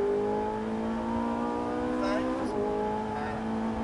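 A Ferrari 458 Italia's engine accelerates on track, a bright rising whine with steady climbing tones and a brief break where a gear change cuts in, heard from inside at moderate level.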